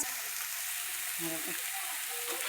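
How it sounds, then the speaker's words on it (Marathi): Food frying in oil in a pan on a gas stove, a continuous close hiss and crackle with faint speech underneath. "थोडासा भाजू द्या तेलात मस्तपैकी मध्ये"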